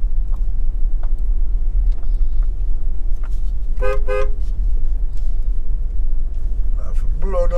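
Car horns toot on a Jamaican road in St. Elizabeth Parish, with two short clusters of honks heard over a steady, low rumble of vehicle noise.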